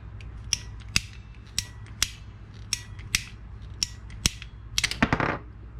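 A squeeze-type blade cutter ratchets through PVC pipe, producing a run of sharp clicks at about one per second over a low hum, then a quick cluster of clicks ending in a crunching snap as the cut finishes.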